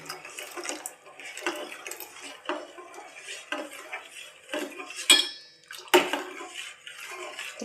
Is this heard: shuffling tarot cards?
no